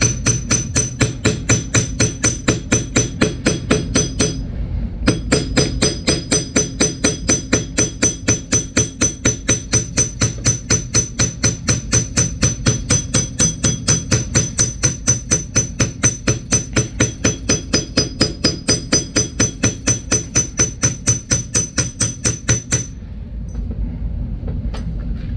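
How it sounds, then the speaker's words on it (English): A rapid, steady series of sharp metallic taps rings out close by, a hammer striking the curve of a metal wire pendant frame in a fast even rhythm with brief pauses, no talking. "as we hammer, we're going to hold either end and hammer the curve first"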